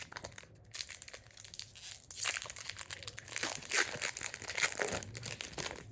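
Close crinkling and tearing of a foil Shrouded Fable trading card pack wrapper, several bursts of crackling plastic over a few seconds, loud and near, with no talking.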